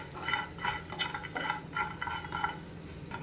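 Dried bombil fish, already fried in oil, being stirred and tossed in a pan, giving a soft continuous sizzle broken by repeated scraping and clinking of a spatula against the metal.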